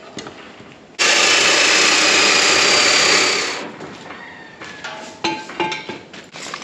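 Saw blades grind loudly and steadily through an old oil pipe for about two and a half seconds, then wind down into clanks and scraping metal knocks.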